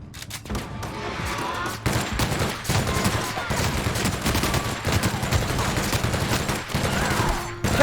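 Rapid gunfire in The Outer Worlds game, dense continuous bursts of shots and impacts filling the whole stretch, loud and close, with faint voices underneath.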